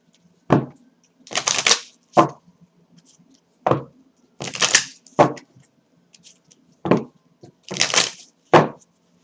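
Oracle cards are shuffled by hand in repeated short, crisp riffling bursts separated by pauses, close and fairly loud with no talking.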